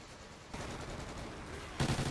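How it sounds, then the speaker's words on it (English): Gunfire in a first-person shooter video game, a quick burst of shots over steady game noise, louder near the end. "He's shooting, shooting, shooting."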